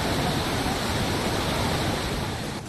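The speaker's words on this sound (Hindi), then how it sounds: "यह मध्यगिर से निकलने वाली शिंगवटू नदी झरने के रूप में बहती है" The Shingvadu river pours as a waterfall during Gujarat floods after heavy rain, a loud, dense, unbroken roar of rushing water that holds steady throughout.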